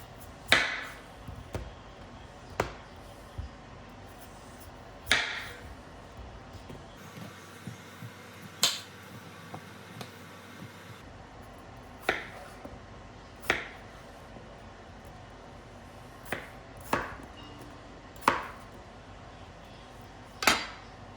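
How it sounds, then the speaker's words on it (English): A knife cuts through potatoes for caldo de res, landing on a board in sharp, irregular thuds about a second or two apart, close and clear, with no talk between the cuts. "Next, I'm going to cut my potatoes."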